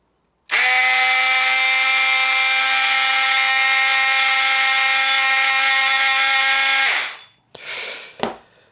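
A FERM 12V multifunction oscillating tool runs with an accessory fitted, giving a loud, steady, close whine with a strong harmonic buzz for about six seconds. It then cuts off, and a couple of brief handling noises follow.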